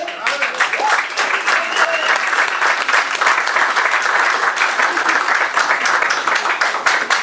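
A church congregation breaks into loud, sustained applause that fills the room, with voices mixed into the dense clapping throughout.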